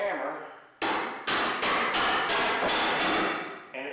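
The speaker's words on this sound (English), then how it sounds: "take a hammer," A hammer driving a flat steel tool into the seam of a Chevrolet C10 inner roof panel, struck about seven times in a quick, regular series of loud, sharp metallic blows, each ringing briefly before the next.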